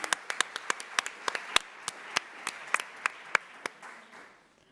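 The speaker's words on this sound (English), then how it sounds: "we're gonna give them all one last big round of applause" Sparse audience applause at a 2022 literary prize award ceremony, a thin spread of distinct individual claps close by, thinning and fading out toward the end.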